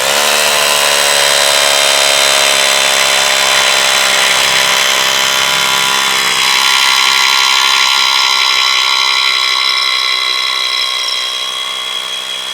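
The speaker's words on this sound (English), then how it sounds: "we'll go ahead and drill a little bit with this so you can take a look at it." A Bosch Bulldog Xtreme rotary hammer drill bores into a concrete block with a 1/2 inch bit, producing a loud, sustained, high-pitched whining grind with a steady hammering buzz that runs unbroken and eases slightly near the end.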